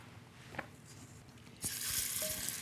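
Chicken drumsticks searing in a pan for coq au vin, a soft sizzle that jumps to a loud, bright hiss as the pieces hit the hot fat, with light clicks and taps.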